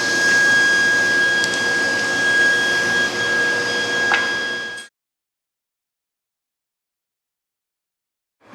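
A table saw cuts pieces of wood, a loud, steady motor roar with a high whining tone for about five seconds, then cuts off abruptly into silence.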